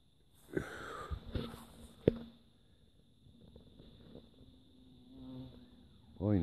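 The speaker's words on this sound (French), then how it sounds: "Oh, une abeille." A bee buzzes faintly outdoors in a quiet countryside setting, a thin intermittent drone drifting near and away, with a couple of sharp close knocks and a brief breathy sound at the end.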